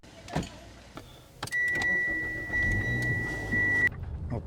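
A car starts with thumps and clicks, then a steady engine hum runs under a continuous electronic warning chime before the car moves off.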